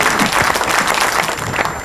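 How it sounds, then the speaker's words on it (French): Audience at a book signing event applauding the book's preface writer, a dense continuous wash of many hands clapping, loud and close, with no talk. "On applaudit très très fort, oui."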